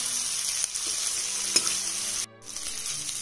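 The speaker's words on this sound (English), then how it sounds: "You can fry the onions here on medium flame." Onions frying with spices and cumin seeds on medium flame for Indian chicken do pyaza give off a steady, close sizzle with a few faint clicks and one brief dip near the end.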